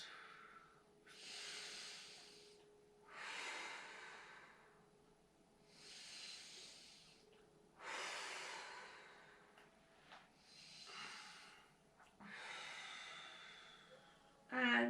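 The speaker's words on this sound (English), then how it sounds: "Take 5 big breaths." Slow, deep breaths during a yoga back stretch on the floor, about six long breathy inhale and exhale swells spaced evenly, close and soft, with no talk.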